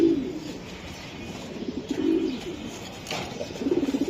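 Racing pigeons at a club loft give a few low, throaty coos in short bursts, fairly close and moderately loud over a steady background hum.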